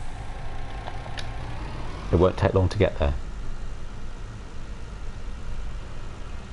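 In Farming Simulator 19, a farm truck's steady low engine rumble runs throughout, with a voice briefly speaking over it midway.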